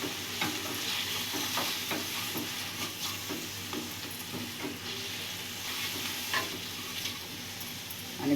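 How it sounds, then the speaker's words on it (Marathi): Egg rice masala with coriander powder, garam masala and turmeric being stirred in a hot pan: close, continuous sizzling with rhythmic spoon scrapes and soft hiss, no voices. "आता यांना चांगला मसाल्याला मिक्स करून घेऊ."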